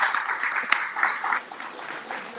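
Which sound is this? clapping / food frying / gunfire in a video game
clapping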